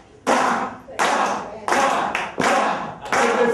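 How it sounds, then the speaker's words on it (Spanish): Five sharp, evenly spaced group hand claps ring out one after another, each loud and reverberant, with brief decays between them. "con las palmas ustedes haciendo así"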